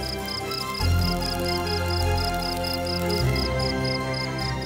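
Grasshoppers chirp in a semi-natural meadow along the Hungarian border, a steady rapid pulsing that repeats evenly over a low continuous background hum.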